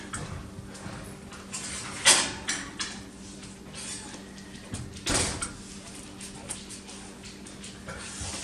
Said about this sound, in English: Okay, this is ready to get out of the oven.